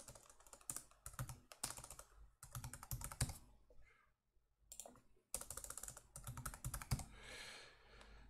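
Rapid typing on a computer keyboard during a programming session, close and crisp, with bursts of keystrokes broken by short pauses and no speech.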